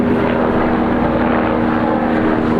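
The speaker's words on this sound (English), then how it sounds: "There's always a helicopter when we do these videos." A helicopter passes overhead, its steady, loud rotor and engine drone filling the whole stretch with an even roar and no talking.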